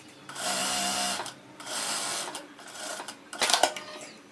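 Sewing machine stitching a roughly one-centimetre seam to form an elastic casing on a ruffled pantacourt jumpsuit, two sustained whirring runs with a short pause between, then a brief burst of clicks.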